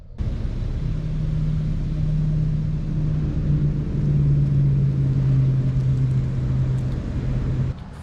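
A car pulls out of a Cracker Barrel parking lot, its engine giving a steady low rumble with a droning hum that holds for most of the stretch before cutting off near the end.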